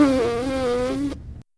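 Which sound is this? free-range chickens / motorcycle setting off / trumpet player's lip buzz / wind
trumpet player's lip buzz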